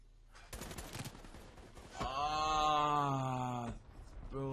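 A burst of rapid gunfire in Call of Duty Black Ops 3 Beta, followed by a sustained, ringing electronic tone from the game before it cuts off.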